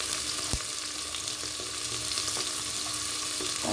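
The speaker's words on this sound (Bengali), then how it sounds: "ভালোভাবে চিংড়ি মাছটা কষিয়ে নেব।" Shrimp frying in a pan with dried chili powder and salt, a continuous close sizzle with light scraping of stirring throughout.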